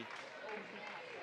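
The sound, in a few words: round of applause for a basketball player at a game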